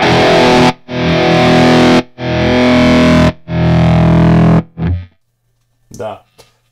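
Distorted electric guitar through a Sentimental Bob Electronics Tacana tremolo pedal, loud chords in several long bursts that cut off abruptly, followed by a few softer short notes at the end.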